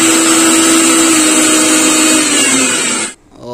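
An electric mixer grinder runs loud and close with a steady high whine, then cuts off abruptly near the end and spins down.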